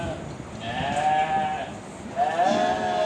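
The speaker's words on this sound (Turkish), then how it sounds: "Yani hayvanlar meliyor bakın. Daha meliyor." Sheep and young lambs bleat on a Turkish farm, several drawn-out calls rising and overlapping at close range over a low background murmur.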